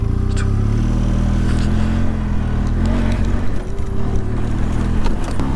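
Benelli TRK 502X motorcycle ridden off road over rocky ground: a steady, close engine drone with rhythmic rattles and clatter from the terrain, continuous and fairly loud, with no talking.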